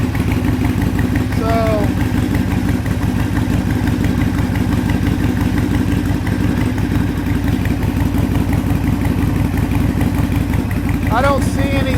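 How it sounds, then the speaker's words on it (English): A Harley-Davidson Sportster Iron 883 motorcycle with a DK Customs catch can breather system idles loud and close, its engine pulsing in a steady, throbbing rumble, and someone speaks briefly over it. "Let's give the bike a start."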